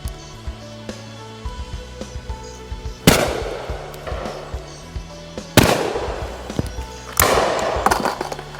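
Three loud shotgun blasts from a Kizilkaya RT25 over-and-under ring out a couple of seconds apart, each with a sharp crack and a trailing echo, with faint clicks and handling noise between them.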